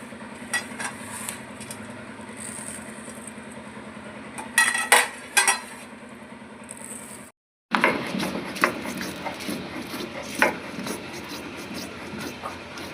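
Whole spices being ground into Kolkata-style chicken biryani masala powder: scattered metallic clinks and knocks, then a short pause before denser, rougher grinding continues up close.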